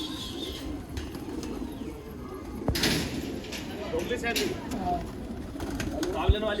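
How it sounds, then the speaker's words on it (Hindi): Pigeons coo on a rooftop where about 170 birds are kept, with soft, close, repeated calls, a few flutters and a door-like slide, heard under men's conversation. "कितने कबूतर है भाई ये?"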